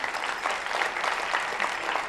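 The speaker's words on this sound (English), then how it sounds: "We want to give a very big round of applause to the Ghana Education Service, our main sponsor for National Science and Maths Quiz." An audience claps for the main sponsor at the grand finale of Ghana's National Science and Maths Quiz 2020, a dense, steady burst of applause filling the hall and sustained throughout.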